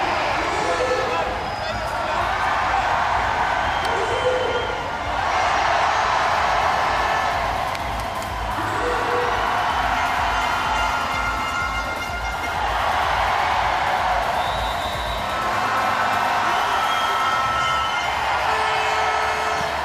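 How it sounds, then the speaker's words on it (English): A crowd cheers loudly and continuously at a sitting volleyball match, a dense roar rising and falling in waves beneath a commentator speaking throughout. "The noise deafening here in the crowd."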